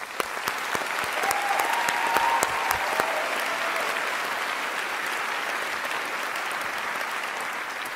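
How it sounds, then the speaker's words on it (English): A graduation ceremony crowd applauds steadily throughout, a dense wash of many hands clapping at even strength with sharp individual claps standing out near the start. "a round of applause to you"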